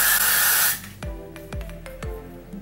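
A steady, loud spray of Got2b Glued hair spray hisses for under a second, then stops; a few sharp clicks and thuds follow in the quiet.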